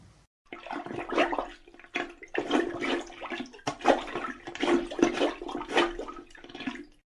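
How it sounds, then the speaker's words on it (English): A plunger works in a toilet bowl with repeated wet sloshing and gurgling strokes, close and fairly loud, in an irregular rhythm of bursts over several seconds. "why don't we listen to the sound a plunger makes in a toilet"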